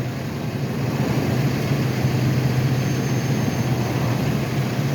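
Drones hover overhead at a three-alarm building fire in Dorchester, Boston, giving a steady droning motor whine that holds at a constant level, fairly loud and continuous, with no talking.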